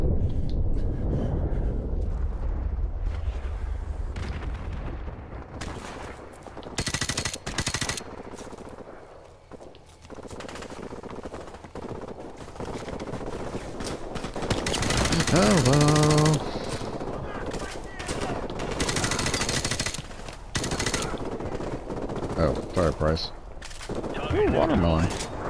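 Gunfire in the Call of Duty: Modern Warfare Remastered campaign, bursts of automatic weapons fire and sharp single shots crackling in clusters over rumbling explosions and game noise.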